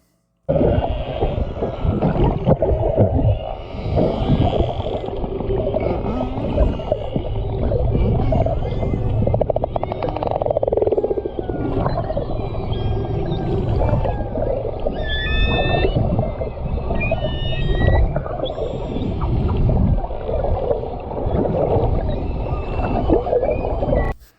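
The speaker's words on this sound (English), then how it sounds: "filmed these beluga whales. You could hear them on the recordings too." Underwater beluga whale calls: whistles, chirps and squeaks over a dense, rumbling, gurgling background, continuous and fairly loud throughout, recorded at Churchill.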